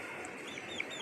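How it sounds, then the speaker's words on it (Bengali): A chicken on a rooftop garden, pecking at a foam sheet, gives a couple of brief, faint clucks over soft background noise. "এই যে মুরগি ককশিট খেয়ে কামড়ানো শুরু করছে,"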